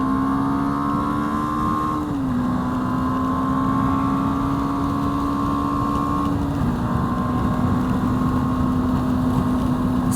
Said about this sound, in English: Alright, let's drive in this rain.